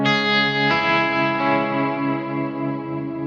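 A Gretsch electric guitar rings out a chord with a second strum soon after, the tone shimmering with chorus-like wobble and sustaining as it slowly fades.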